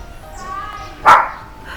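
A single dog bark rings out sharply near the middle, heard next to a neighbor's home over a low, steady background hum.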